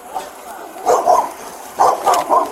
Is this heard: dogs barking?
yes